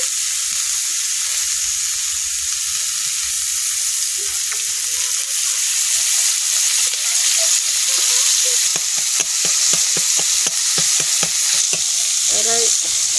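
Cauliflower and potato pieces fry in hot oil in a pan with a loud, steady sizzle. Later comes a run of quick, rhythmic stirring scrapes close by.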